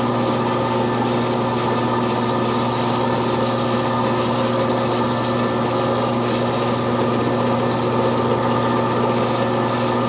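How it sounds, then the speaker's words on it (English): Sandpaper held against a wooden snowman spinning on a turning lathe, a loud continuous abrasive rubbing hiss over the steady motor hum, with no talking. "If you don't, you'll get the sanding marks in a circle as the lathe is turning."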